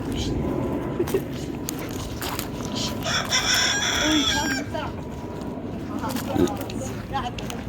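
Rooster crowing and clucking as boys try to catch it, the bird's calls rising over steady chatter and shouting nearby, with people talking throughout.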